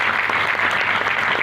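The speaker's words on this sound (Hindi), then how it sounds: "आप अपने लिए तालियां बजाइए और सब लोग भी उनके लिए तालियां बजाइए।" Steady, dense applause from a crowd, many hands clapping together at full strength throughout with no pauses.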